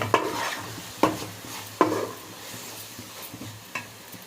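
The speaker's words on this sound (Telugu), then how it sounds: "ఉల్లిపాయ అయితే బాగా ఏగాలండి," Onions frying in a pan for a fish curry, stirred with a utensil that strikes the pan in three sharp clanks early on and once more near the end, over a low steady sizzle.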